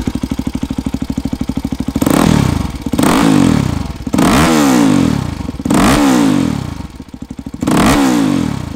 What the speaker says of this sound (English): All that noise is coming from the Yoshimura RS2 with